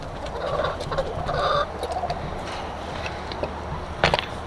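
Chickens cluck and murmur nearby in a busy, uneven chorus, with a few sharper calls and a brief clatter near the end.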